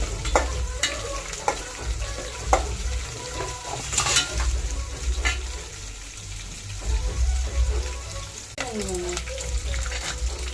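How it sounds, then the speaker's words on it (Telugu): Onions and green chillies frying in a pan and being stirred, with steady sizzle and repeated spatula scrapes and clinks, plus some faint background voice activity. "ఆనియన్స్ బాగా ఫ్రై అయ్యేదాకా ఇప్పుడు పచ్చిమిరపకాయలు వేసుకోవాలి. మిక్స్ చేసుకోవాలి."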